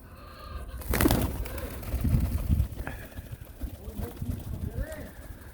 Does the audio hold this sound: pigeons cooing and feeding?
yes